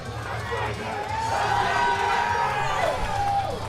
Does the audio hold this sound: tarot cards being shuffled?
no